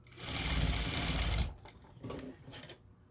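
Sewing machine stitching a seam closed on a shirt being made into a skirt, a loud steady run of about one and a half seconds followed by two shorter, quieter bursts of stitching.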